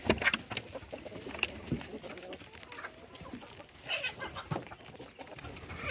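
Homestead hens cluck and chatter around a coop in the morning, a busy mix of soft clucks and brief higher calls at moderate distance, with no clear talk over them.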